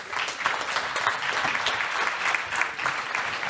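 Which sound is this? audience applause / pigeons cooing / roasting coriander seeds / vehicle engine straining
audience applause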